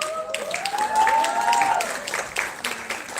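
Applause from a conference audience at a health conclave in Chandigarh, brisk and fairly loud throughout, with people talking over the clapping.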